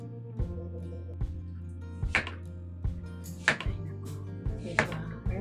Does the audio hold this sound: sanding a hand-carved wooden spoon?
no